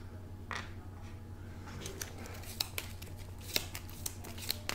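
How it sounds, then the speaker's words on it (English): A stack of board game cards for 1960: The Making of the President is shuffled by hand, giving faint, close riffles and crisp snaps scattered over a quiet background. "So what I'm going to do is randomly shuffle these up."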